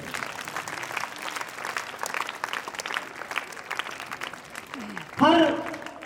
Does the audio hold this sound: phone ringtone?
no